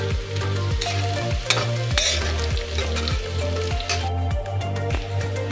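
Carrot and bean pieces stir-fry in hot oil in a pan for veg pulao, a steady loud sizzle broken by regular scraping strokes of a spatula, close up with no talking.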